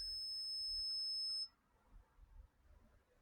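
A ghost-hunting device gives off a single loud, steady electronic alarm tone for about a second and a half, then cuts off abruptly into quiet room noise.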